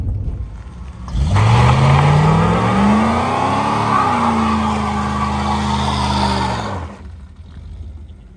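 Pontiac Formula Firebird accelerating hard, engine note climbing in a loud rising rev that settles into a sustained roar for several seconds before cutting off, close and dominant over faint background noise.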